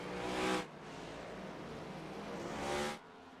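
A race car in a road-course racing game roars close by, engine loud and steady for about three seconds, then cutting off sharply, with brief lulls at the start and end.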